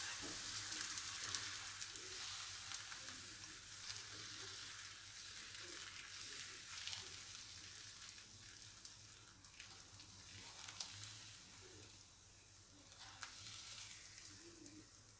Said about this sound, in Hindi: एक साइड पकने देंगे, फिर इसको पलटेंगे